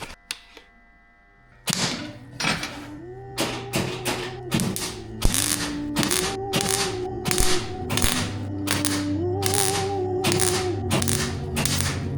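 A welder's wire feeder pulls ESAB copper welding wire, its motor whirring in rising, stepped whines broken by a rapid series of close mechanical clicks and taps.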